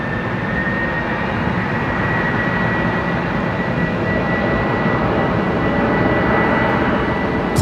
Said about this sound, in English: Qantas 943 off to Perth.